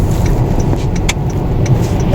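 Car interior while driving through heavy late-night city traffic around 1 a.m., a steady broadband road and engine rumble with faint clicks, no talk.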